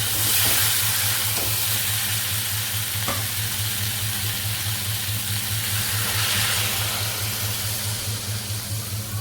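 Eggs frying in a pan in a village kitchen, a loud dense sizzle hissing continuously from start to finish with a low steady hum beneath it, no speech.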